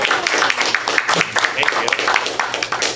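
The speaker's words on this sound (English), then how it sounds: "Clap it up for him" An audience claps for a comedian at an open mic night at The Brew House on Valentine's Day. The short burst of dense, close clapping stays steady throughout, with voices mixed in.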